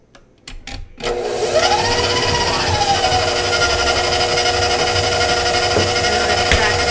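A stand mixer fitted with a paddle attachment, creaming banana bread batter, whirs up after a few clicks and then runs as a loud, steady motor drone with a faint rising whine, close by and without talk.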